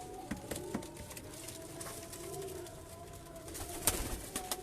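Breeder pigeons cooing in a loft, soft repeated coos with occasional louder calls and faint rustling, continuous at moderate distance.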